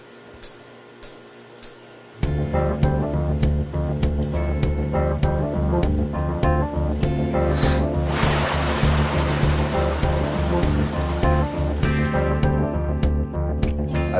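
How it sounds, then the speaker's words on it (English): A maple sap extractor at a sugar shack dumps its load of raw sap, a sudden loud rush of pouring liquid starting after a couple of seconds of quiet and then running steadily, with a brief splashy swell partway through. "So the sap comes in through the main lines, fills these guys up, and then dumps it."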